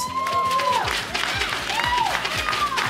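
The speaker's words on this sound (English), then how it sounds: "Give me a huge round of applause, guys." A studio crowd at a Rocket League esports broadcast, the Gfinity Elite Series, claps and cheers at moderate volume while bright electronic musical tones ring out on top.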